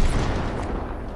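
Fortnite gunfire in a brief, dense, loud burst of rumbling shots and booms, close and continuous for about a second.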